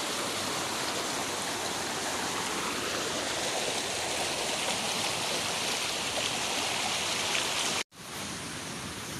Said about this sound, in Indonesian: Ya, di sini kita harus menyeberang lewatin sungai ini.